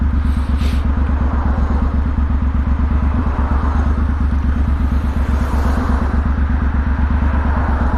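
Motorcycle ridden along English countryside roads, its engine a steady loud rhythmic drone throughout with wind rush, close to the rider and no voices.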